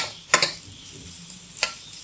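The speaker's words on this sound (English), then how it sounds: "Just toss it till the onions become translucent" Onions and curry leaves fry in coconut oil for Kerala-style green gram curry, a soft low sizzle punctuated by two sharp scraping tosses of a spatula against the pan.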